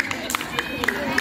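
Scattered, uneven clapping from a school crowd during a student council (OSIS) candidate debate, a few sharp claps over murmuring voices, brief and moderately close.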